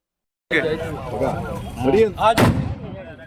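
A sharp firecracker bang cuts through loud crowd voices as people set off fireworks in Dhanera to celebrate the BJP's Delhi election win. Excited talking and shouting fill the rest of the moment.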